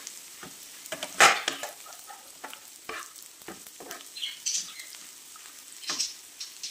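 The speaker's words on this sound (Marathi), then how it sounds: "या दोघांना पण आपण कांद्यासोबत आणखी थोडा वेळ फ्राय करून घेऊया।" Chopped onions, grated coconut, coriander seeds and cumin frying in a pan for a Saoji chicken masala, giving a light, steady sizzle with scattered crackles and the scrape of stirring, near and alone with no talk.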